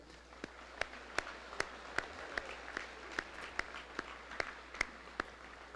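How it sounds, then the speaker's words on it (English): At a high school graduation ceremony, faint, evenly spaced single claps ring out in a steady rhythm over a quiet hall hum. "I think we should give these guys a round of applause"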